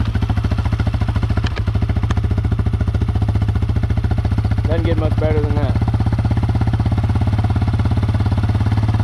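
A cold 2002 Yamaha Wolverine 350 ATV, its factory exhaust baffle removed, idles with a loud, steady, fast-pulsing single-cylinder putter close up, while someone briefly talks over it.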